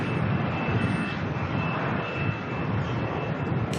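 Boeing 747 jet engines spool up during start at Melbourne airport, a steady broadband roar with a faint high whine, moderately distant and continuous with no talking.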